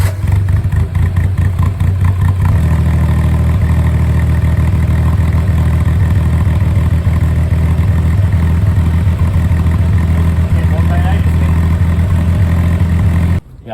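A Honda Acty HA4 engine idles steadily with a Hisawa GIGA N1 half-stainless muffler fitted, giving a loud, close, even exhaust burble and some mechanical clatter that runs without a break for the whole stretch.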